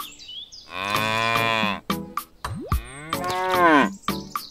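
Cows moo in long, drawn-out calls, several loud bellows close by with short gaps and some abrupt clicks between them.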